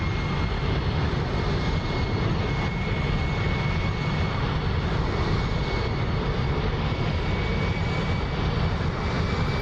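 Engines of a B-2 Spirit bomber at half throttle in the DCS flight simulator make a steady, loud jet roar with a faint high whine, continuous and unbroken throughout.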